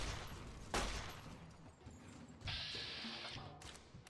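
A sharp gunshot in Fallout: New Vegas cracks out early, followed by scattered quieter game noises and a bright sustained metallic tone partway through.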